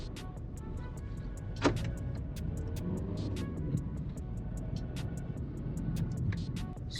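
A serviced Renault car driving along, with a steady, quiet road and engine hum, a few soft clicks and one brief sharper knock from inside the cabin.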